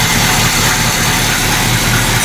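Big block V8 running in a 1985 Buick Regal with a leaking exhaust crossover, a close, steady low idle rumble with a continuous throb and no talking.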